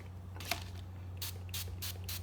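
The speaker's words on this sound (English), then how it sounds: "the recipe calls for spraying the bread with a little olive oil" Olive oil is sprayed onto rye bread in several short hissing bursts from a spray bottle, close and fairly quiet, with a steady low hum underneath.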